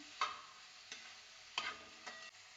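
Onions fry on a low flame in a bronze uruli for a country-style chicken roast. A spoon stirs and scrapes the metal pan in a few soft, separate knocks over a quiet, faint background.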